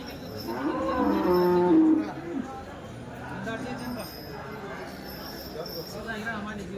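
HF and Jersey cows mooing at the Dhule cattle market, a long loud low moo up close near the start, followed by fainter lowing amid market bustle and voices.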